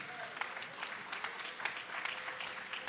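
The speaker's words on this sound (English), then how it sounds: "let's have a clap praise for the Lord" Church congregation clapping in praise during a Sunday service, a soft, fairly distant wash of hand claps with a few sharper claps standing out, faint murmuring voices mixed in.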